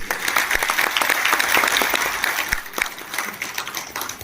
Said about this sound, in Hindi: और आप तालियों से कर देंगे